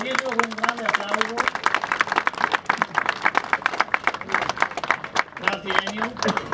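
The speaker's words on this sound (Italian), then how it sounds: "Accoglietelo con un grande applauso." An audience at an outdoor monument inauguration gives a guest a sustained burst of clapping that runs for several seconds, while people talk over it at the start and near the end.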